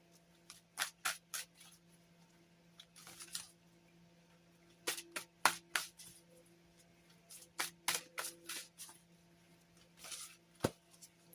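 Mystic Violet Tarot cards are shuffled in quick irregular bursts of crisp riffling and snapping, close and fairly quiet, separated by brief pauses over a faint steady hum.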